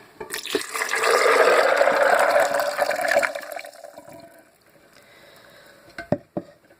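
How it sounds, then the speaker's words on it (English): Water pours into a blender holding raw hazelnuts, a loud steady splashing fill for about three seconds that tapers off into quieter trickles and a few sharp clinks near the end. "I'm going to add some water."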